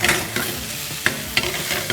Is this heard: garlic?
yes